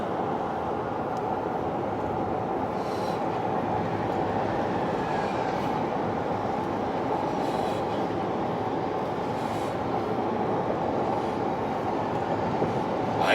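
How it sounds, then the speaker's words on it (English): A train passes near Paloma Ranch along old US 80 with a steady, loud rumble of rolling wagons and wheel noise that holds evenly throughout, with no talking. "There's a train."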